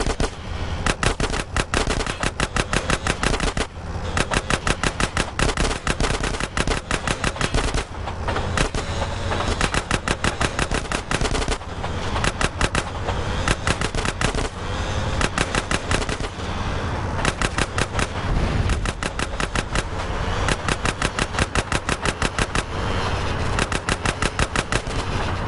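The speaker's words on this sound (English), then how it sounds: "Roll up on them, CJ, so I can get a shot!" Rapid machine-gun fire during a train chase in GTA San Andreas on PS4, continuous loud bursts of shots over rumbling train noise for the whole stretch.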